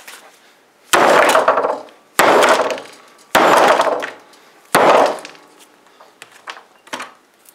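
A hammer smashing down on McFarlane Spawn and Bandai Sasuke action figures, four loud heavy whacks about a second apart, each ringing briefly, followed by lighter clattering knocks.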